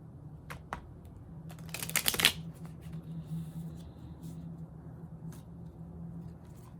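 Tarot cards shuffled by hand for a reading: a brief crisp riffling flurry with a few soft taps before and after, over a low steady background hum.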